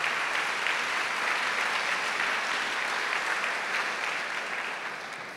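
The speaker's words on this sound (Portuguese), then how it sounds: "Aplaudiu o Senhor bem forte pela sua palavra." Church congregation applauding loudly, a dense, sustained wash of many hands clapping that holds steady and then begins to fade near the end, with no speech over it.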